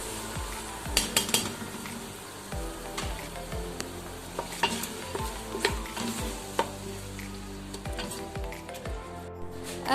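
Soaked, drained lentils tipped into hot masala in a pan on the stove, giving a steady sizzle with repeated scraping stirs and clinks of a spoon against the metal pan, close and moderately loud.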